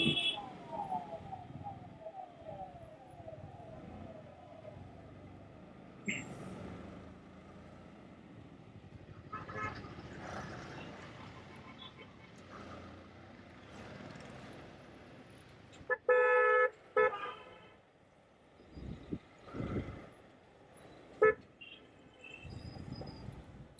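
Car horns honk in short bursts, some sustained and close, over a steady rumble of engines and road noise in a Mumbai traffic jam as crowds head out before the Ganpati festival; voices speak faintly underneath.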